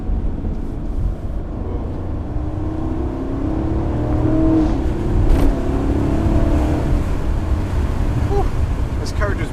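A Chevrolet Camaro SS driving along a winding road, its engine droning steadily and then swelling as it accelerates hard, with road and wind roar inside the cabin.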